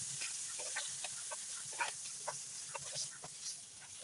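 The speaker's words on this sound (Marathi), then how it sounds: "आता आपण हे मध्यम आचेवरती 15 ते 20 मिनिटं दोन्ही बाजूने व्यवस्थित फ्राय करून घ्यायचे आहेत." Pomfret fish frying in a pan over medium heat, a steady soft hiss and crackle with scattered small pops and spits, fairly faint and continuous with no talking.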